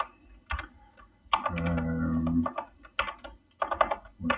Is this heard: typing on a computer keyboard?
yes